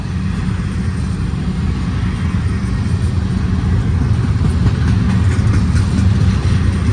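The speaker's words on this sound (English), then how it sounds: "This train was only a couple miles long." A long BNSF freight train rolls past nearby, a loud, continuous rumbling roar of wheels and cars that swells slightly toward the end, with no voices over it.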